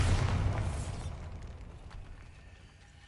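A Bombarda spell goes off in Hogwarts Legacy with a loud, close blast at the start, then a rumbling tail that fades slowly over about three seconds.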